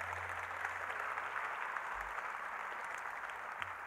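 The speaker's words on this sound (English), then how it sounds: "So how about another warm round of applause for Dr. Rosenfeld?" Audience applause at an award ceremony, steady sustained clapping from a crowd heard throughout, fairly loud and continuous with no talk over it.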